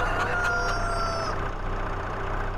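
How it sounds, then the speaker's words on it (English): A rooster crows once in the Farming Simulator 22 video game, a drawn-out call heard over a steady background engine hum. "Oh, here you go, rooster crowing."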